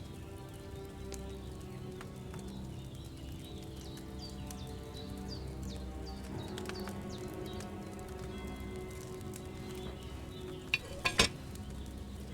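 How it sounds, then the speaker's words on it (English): A cauldron in Kingdom Come: Deliverance II bubbles and simmers over a flame, continuous and fairly quiet, with a brief sharper clatter near the end. "Hear that bubbling? It's boiling."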